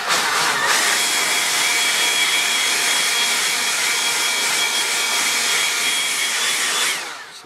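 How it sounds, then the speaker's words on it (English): Leaf blower roaring steadily at close range as it blasts debris out from under a Husqvarna mower deck, a loud continuous rushing whoosh that cuts off near the end. "Then I'm going to take my leaf blower and just see if it does any good."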